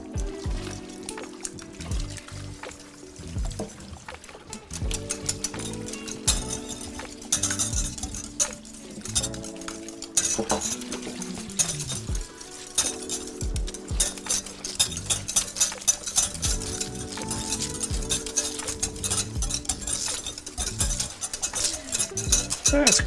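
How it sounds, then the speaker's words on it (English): Pumpkin puree and two eggs whisked together in a bowl: a fast, continuous rhythmic clatter of the whisk against the bowl, close and steady throughout, with no voices. "We're going to whisk together the pumpkin puree and the 2 eggs"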